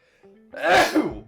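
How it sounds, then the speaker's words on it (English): A single sharp sneeze bursts out after a brief quiet breath, loud and close, fading quickly. "I have to sneeze again"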